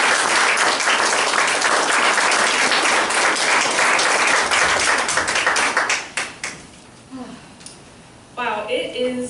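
A church congregation applauds to welcome a guest preacher, a dense, loud burst of clapping that fades out after about six seconds, leaving scattered claps before a voice begins speaking at the end.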